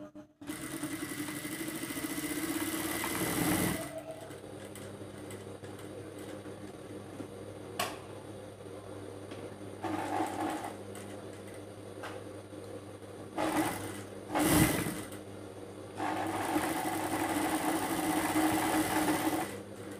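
A sewing machine stitches a shirt pocket in bursts of steady whirring, stopping and restarting with brief clicks and knocks between runs, close and without talk.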